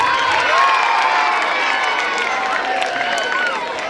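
An audience at a community donation announcement breaking into clapping and cheering, a dense continuous burst of applause with shouts mixed in, close and loud.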